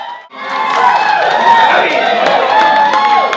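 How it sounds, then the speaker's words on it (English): Wedding guests cheer and clap on Minjarrabah Island, a loud, dense crowd roar with whoops and shouts rising after a brief gap and holding steady, voices mixed throughout. "Let's give a round of applause for that."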